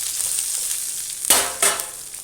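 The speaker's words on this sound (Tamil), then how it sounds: "வாழைப்பூ நல்லா வதக்கிக்கலாம்." Chopped banana flower sautés in a pan for vadai, a continuous soft sizzle with two sharper bursts of frying as the pieces are stirred, close and alone.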